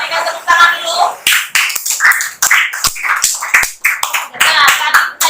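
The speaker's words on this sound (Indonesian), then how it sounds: "Berikan tepuk tangan dulu." A class of student teachers claps after a group presentation in a civics course, scattered uneven hand claps of moderate loudness, close by, with voices talking over and between them.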